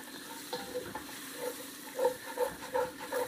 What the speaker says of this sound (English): Alright, let's stir that in.